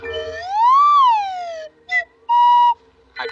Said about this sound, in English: I have a whistle in the factory.